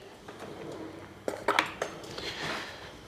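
Metal cutlery clinks and scrapes against dishes as a spoon is grabbed in a home kitchen during pasta gratinata cooking, a few sharp close clatters over a quiet room.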